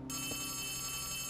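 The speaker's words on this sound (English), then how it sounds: "Oh, there's another phone." A telephone rings in the video game Poppy Playtime Chapter 3: a steady, bright electronic bell tone holds without a break, with no voices.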